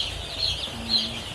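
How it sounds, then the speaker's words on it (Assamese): Broiler chickens on a poultry farm cluck in short, close bursts, with a thin, steady farmyard hum underneath. "দাদাই এই মুৰ্গীকেইটাক মাতিব চব আহি যাব"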